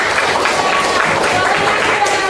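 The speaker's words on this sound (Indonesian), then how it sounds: "tepuk tangan untuk kelompok" A school history class applauds a student group after its presentation, steady clapping filling the room with some talk mixed in.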